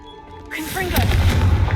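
Confringo blasting spell cast in Hogwarts Legacy, a single deep boom erupting midway and rolling into a rumbling, crackling burst with low-end thunder, loud and close, amid other game effects.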